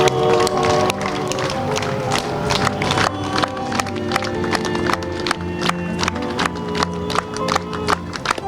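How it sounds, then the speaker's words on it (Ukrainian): Sustained applause from mourners as a coffin is carried out after a church funeral service, many hands clapping in a dense patter over a sustained musical backdrop. "після церковної панахиди труну з тілом артиста провели під гучні оплески присутніх"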